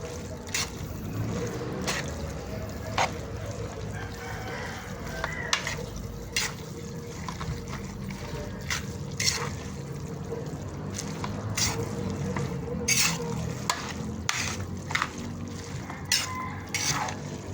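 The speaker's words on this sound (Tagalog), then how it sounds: "Haluin lang natin siya hanggang sa kumapit na ang sauce sa ating noodles." Pancit palabok noodles stirred and tossed through their sauce, a steady wet, sloshing churn with scattered sharp clicks of utensil on pan, close and continuous throughout.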